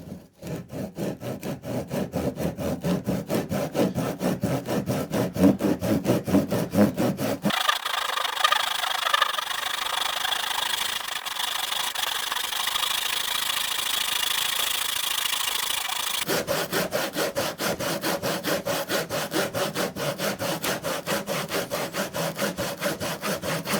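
A saw cuts a mitre in wood for a small John Welsford SCRAPS tender rowing boat. Steady, close rasping strokes run for several seconds, ease into a quieter stretch, then return with the same brisk rhythm.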